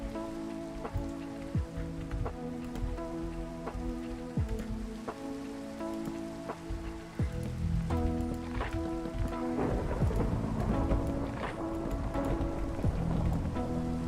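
Steady rain patters through the whole Minecraft thunderstorm, with low rumbles and sharp crackles of thunder; the downpour thickens and grows louder partway through, with no voices over it.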